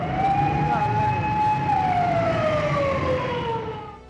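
An ambulance siren wails through a traffic jam on a Lahore road, its rising and falling tone sweeping steadily over a low rumble of idling vehicles, loud and close before fading slightly at the end.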